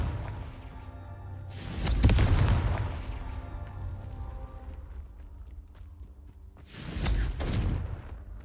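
Two loud fiery blasts from the Confringo spell in Hogwarts Legacy, each a sharp booming burst with a crackling tail, roughly five seconds apart over a low humming game backdrop, with no talk.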